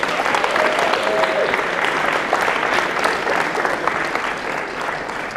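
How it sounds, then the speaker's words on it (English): A live hypnosis show audience applauds its volunteers, dense sustained clapping from a crowd filling the room at steady strength for several seconds before easing slightly. "can we get a huge round of applause for your volunteers?"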